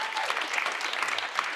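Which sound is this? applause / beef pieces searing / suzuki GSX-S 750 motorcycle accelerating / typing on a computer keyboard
applause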